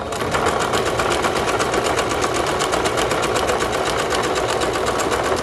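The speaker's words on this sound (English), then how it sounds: "But you're literally just doing a straight stitch along this folded line here." Sewing machine running a continuous straight stitch along a folded line of fabric, a steady fast mechanical chatter, close and loud without pause.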